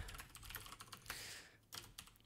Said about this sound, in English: I'm typing the wrong window.